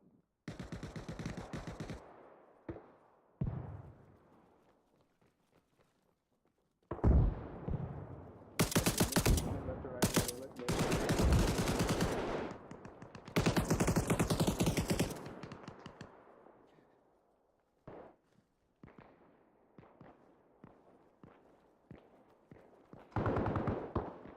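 Automatic gunfire in Arma Reforger, rapid bursts of shots, some close and loud, others fainter and distant, scattered across the scene with brief pauses between volleys.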